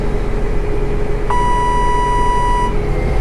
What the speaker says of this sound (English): Hold this till it beeps